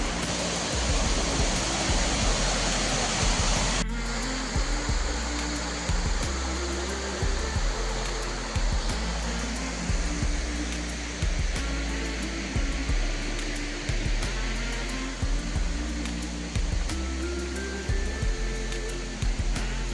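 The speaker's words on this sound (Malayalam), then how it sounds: "അങ്ങനെ നമ്മൾ ഉപ്പുണിയിലുള്ള മറ്റൊരു വെള്ളച്ചാട്ടത്തിലേക്ക് എത്തിയിരിക്കുകയാണ്" A waterfall at Uluppooni in Idukki, Kerala, roars as a steady, broad rush of falling water, loud and constant throughout with no voices.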